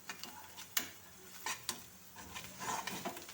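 Ingredients for coriander leaf chitranna rice fry in a pan with a faint, soft sizzle and several light taps and scrapes from a spatula against the pan. No one speaks.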